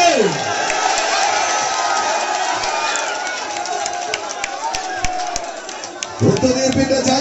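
A crowd at a sevens tug-of-war match between Ernakulam and Samanyaya Paravur cheers in a sustained roar, with scattered sharp claps and whoops that swell louder toward the end.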